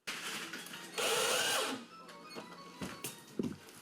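A power screwdriver drives screws as workers fit electrical sockets in a newly built home, giving one loud whirring burst of about a second between lighter clicks and handling knocks.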